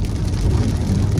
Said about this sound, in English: Big raindrops out here.